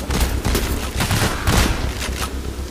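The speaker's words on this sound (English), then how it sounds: "I'm just gonna pull out a carbine right now" Rapid carbine gunfire in Payday The Heist during a heist, a dense, continuous fusillade of loud bursts packed close together with no pauses across the whole stretch.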